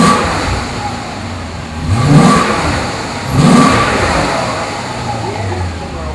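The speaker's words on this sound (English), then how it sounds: "let me go ahead and start it up for you real quick, and you can hear what it sounds like." A 2002 Maserati Spyder Cambio Corsa's engine runs close by at a steady idle, rising in two brief revs a little over a second apart before settling back down.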